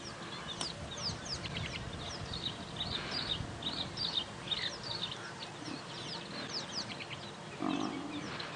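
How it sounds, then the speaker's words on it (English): Small birds chirp at sunrise on a safari drive, with many quick, high chirps and twitters repeating from a moderate distance over a faint outdoor background, plus a lower cluck-like call near the end. "I'm sure you can hear all the little birds chirping as well."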